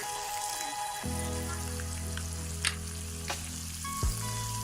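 Steady frying sizzle from salted chicken in a pan with occasional crackles and a few scraping stirs, no talking.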